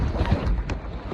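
Strong wind buffets the microphone while paddleboarding on open water, a loud rough rumbling roar with gusty bursts.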